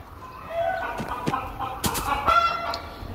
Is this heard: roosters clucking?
yes